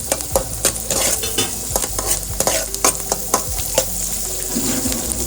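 Vegetables fry in a pan with a bright, steady sizzle, punctuated by frequent clicks and scrapes of a spoon stirring against the metal, close and alone.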